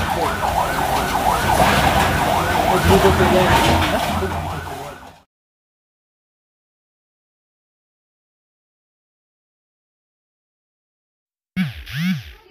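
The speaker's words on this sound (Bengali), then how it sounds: "বাসটার আগে এত শব্দ হচ্ছে ফায়ার সার্ভিসের লাগছে" A fire service siren wails on a road ahead of a bus, loud and close for about five seconds, then cuts to silence before a short burst of sound returns at the end.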